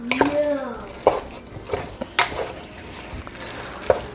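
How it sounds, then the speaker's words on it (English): A spoon scrapes and clanks against a pot of beef chili on the stove. There are a few distinct knocks and a brief squeak over a low background hum, with no talking. "I'm just stirring to make sure that everything is evenly cooked."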